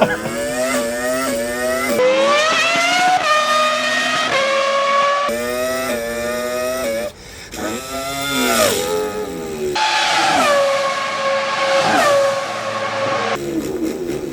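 A voice imitates a Lamborghini Huracan engine, rising through rapid revving sweeps like gear changes with a falsetto edge, loud and continuous with brief breaks between pulls.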